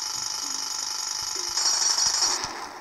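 Jackhammer sound effect in the Troll Quest video game, a steady loud mechanical rattle that continues throughout and grows slightly louder near the end, with no talk over it.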